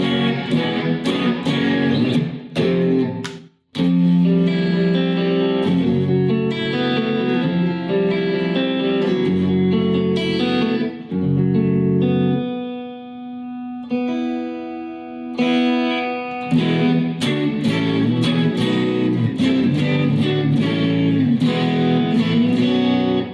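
A 60th Anniversary Fender Telecaster electric guitar plays sustained notes and chords with pauses between, being checked and tuned, loud and close.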